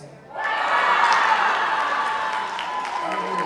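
Audience at a spring athletics awards ceremony in 2023 bursting into applause and cheering, a broad, loud wash of clapping rising quickly, then slowly easing off with some whoops, and no speech.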